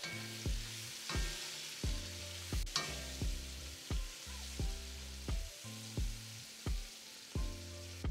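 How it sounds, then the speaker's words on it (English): Spices for a biryani, including nutmeg, are stirred into a sizzling pan, with a steady sizzle broken by regular scraping strokes about once a second, close and clear. "We're going to stir all of this in."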